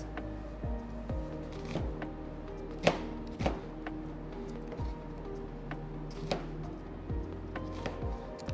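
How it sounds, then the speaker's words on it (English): A knife chopping onions into big chunks on a cutting board, a series of sharp, irregular close knocks with quiet handling sounds between them. "So my onions, I'll just cut them in big chunk like that"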